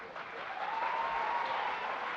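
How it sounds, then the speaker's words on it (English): An audience at a school graduation ceremony claps steadily in a large hall, a continuous moderately loud wash of applause heard from a distance, with no voices over it. "the clapping."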